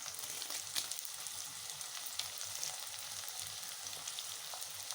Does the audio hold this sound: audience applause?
no